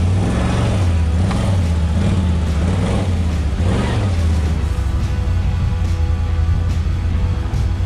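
A 2021 Can-Am Outlander 850 XT ATV runs on a wet, heavy snow test ride, its engine droning loud and close with rising and falling revs early on, then settling into a steadier rumble.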